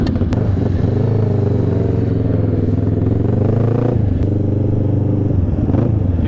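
A 2022 or 2023 Kawasaki Ninja 650 twin-cylinder motorcycle runs hard on a race track, its engine note loud and steady with rising and falling pitch through gear changes and a brief dip before pulling again.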